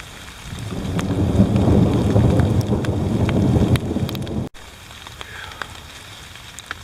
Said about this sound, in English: It's absolutely pouring down rain,